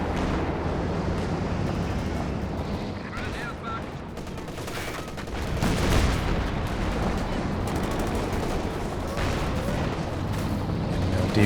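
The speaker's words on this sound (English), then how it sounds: "Machine guns there though" Machine gun fire in a Company of Heroes 2 2v2 match, with continuous rattling bursts and heavier explosions forming a dense, loud battle din beneath an ongoing commentator's voice.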